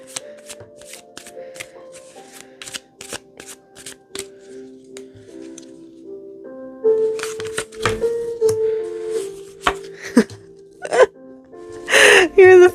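Tarot cards shuffled by hand, steady riffles and soft slaps repeating close up, growing denser and louder toward the end, with a voice speaking over parts of it.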